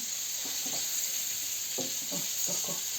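Fish frying in a pan of oil over low heat gives a steady, close hiss, with a few soft clinks and scrapes as the pieces are turned.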